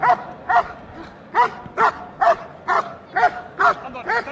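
A police dog barks repeatedly during a KNPV bitework exercise while guarding a person, about ten sharp, evenly spaced barks, close and loud.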